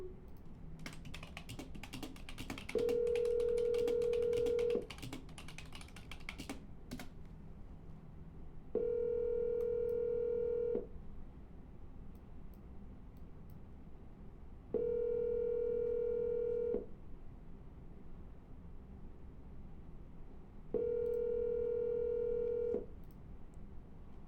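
A redialed phone call rings out: four evenly spaced ringback tones, each about two seconds long, sound through the handset. A brief burst of computer keyboard typing comes before the first ring. No one speaks.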